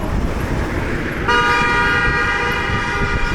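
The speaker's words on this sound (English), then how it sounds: "Honk, honk." Car horn honking in city traffic during a scooter rideout, a loud sustained blare that starts partway through over rumbling road and engine noise.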